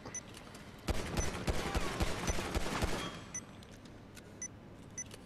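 Rapid bursts of gunfire in Grand Theft Auto V, a dense clattering volley for about two seconds, then scattered single shots trailing off into quieter background game sound.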